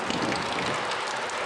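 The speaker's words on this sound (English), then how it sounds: "It's a wet, rainy day here in Dallas." Steady rain pours down on a cool, wet spring morning in Dallas, a dense even hiss of falling water without pauses, fairly close and alone with no voices.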